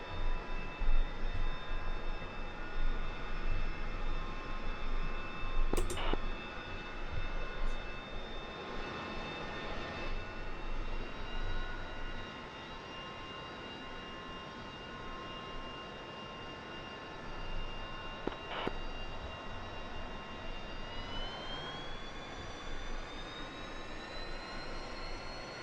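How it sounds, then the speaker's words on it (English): An aircraft engine spools up in the DCS flight simulator, a steady jet whine with layered tones that drops slightly midway and then rises in pitch near the end, with a couple of faint clicks and no talking. "Does that engine not start? Should be going by now."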